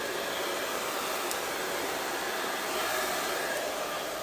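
A hair dryer fitted with a concentrator nozzle runs on low heat for a beard blowout, giving a steady, close airy whoosh that holds an even level throughout with no talking.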